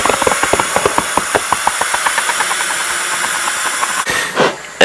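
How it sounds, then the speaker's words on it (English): A lawn tractor tire inner tube on a John Deere X495 front wheel is pumped with air in a steady rhythm of short hissing strokes, loud and close, over a constant background hiss. "So we're going to pump this up."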